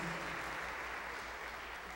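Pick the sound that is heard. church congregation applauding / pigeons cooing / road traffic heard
church congregation applauding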